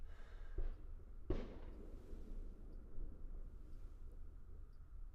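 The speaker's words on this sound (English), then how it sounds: "I think that's fireworks." Fireworks going off outside a shed in Scotland, two distant muffled bangs early on followed by a faint rumbling tail, heard from indoors with no talking.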